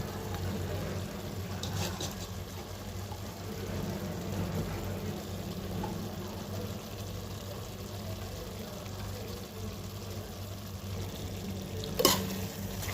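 Mutton pieces being stirred into curry gravy in a pot, a steady low bubbling and scraping texture continuing throughout, with one brief sharp clink near the end.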